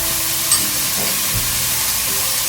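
Carrots hitting a pan of softened onions set up a steady, moderate frying sizzle and hiss that runs unbroken throughout, with no voices over it.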